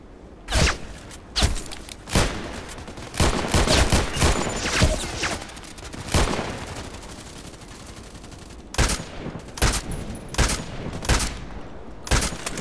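Gunfire in the online shooter Contract Wars, with loud close bursts and single shots, some rapid clusters, spread across the whole stretch with brief lulls between volleys.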